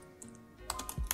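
Keys clatter on a computer keyboard as a command is typed into a Ubuntu Linux terminal, a short burst of close, quick clicks growing louder toward the end.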